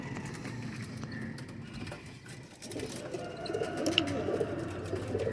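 Several pet pigeons cooing softly close by as they are carried, with faint fluttering and shuffling, growing slightly busier toward the end.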